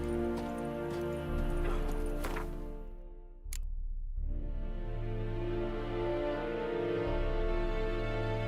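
A horse's hooves clip-clopping in The Witcher 3: Wild Hunt, a close, rhythmic trot over a sustained low musical drone, briefly interrupted by a sharp transient before the hoofbeats and tones continue.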